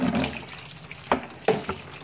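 Water sloshing and rinsing through a plastic bucket after scrubbing, close by, with a few short, sharp splashes over a softer running wash.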